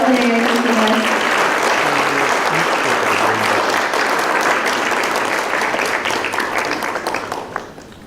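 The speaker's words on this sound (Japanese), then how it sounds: "どうぞ皆様、スポンサー各社の皆様に盛大な拍手をよろしくお願いいたします。" Sustained, loud applause from an audience at a photography award ceremony thanking the sponsors, dense clapping with brief voices early on, then fading away near the end.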